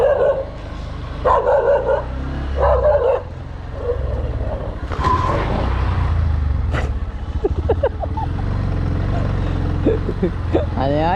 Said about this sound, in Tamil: வண்டியை மூவ் பண்ணோடனே குலைக்குது.